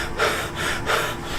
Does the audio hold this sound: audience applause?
no